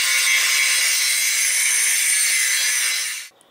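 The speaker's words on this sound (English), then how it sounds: "So I went ahead and trimmed this metal sleeve to size." Steady, bright abrasive cutting as a metal sleeve is trimmed to size during a Ford F250 4WD death wobble repair, one continuous pass lasting about three seconds before stopping abruptly.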